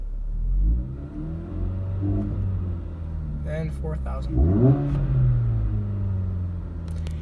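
A 2016 Jeep Renegade with an aftermarket exhaust and cold air intake idles low, then its engine is revved in a rising surge and eases back, while someone talks over it up close.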